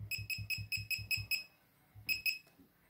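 A laser projection keyboard gives off a fast run of about eight short, bright electronic beeps. After a brief pause, three more quick beeps follow. The sound is clear and close, with no talking.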